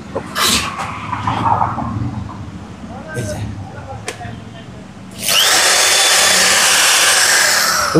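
An electric drill machine, part of a lot of used goods salvaged from old ships, whines into steady, loud, continuous running after several seconds of background noise and brief knocks.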